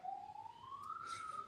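A siren wails in the background, its tone slowly rising, faint and distant against low room noise.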